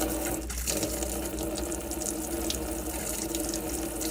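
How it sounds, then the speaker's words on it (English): Hot tap on the kitchen sink of a Burstner Aviano i684 motorhome runs steadily, a continuous close splashing hiss of water into the basin with no voices. "just turn the tap to the left-hand side, so turn it to the hot side, and just pull the water through"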